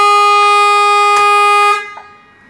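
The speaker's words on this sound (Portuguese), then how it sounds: "Dispara a buzina e o pisca-alerta." A Scania truck horn blares loud and steady, a sustained multi-tone honk that cuts off partway through, leaving a fading tail, heard alone without talk.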